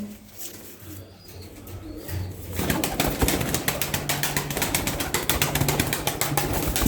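Costume pigeons flap their wings loudly and rapidly at close range, a dense fluttering burst that follows a quieter stretch with soft cooing.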